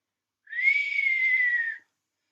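A single sustained whistled note, clear and steady, lasting over a second with a slight falling pitch at the end, alone in silence.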